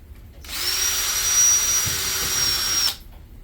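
A power drill whirs steadily for a couple of seconds at close range, its pitch dipping slightly midway as it bites in, then stops.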